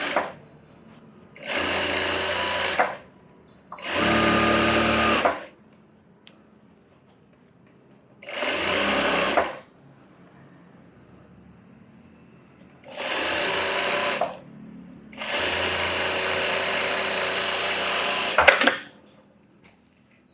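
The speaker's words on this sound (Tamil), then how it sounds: "நம்ம 1/2 இன்ச் விட்டுருந்தோம் இல்லையா, அதை கனெக்ட் பண்ணி தையல் விட்டுக்கலாம்." A tailor's sewing machine stitching a scalloped blouse whirs nearby in five separate runs, some short and some longer, with quiet gaps between them.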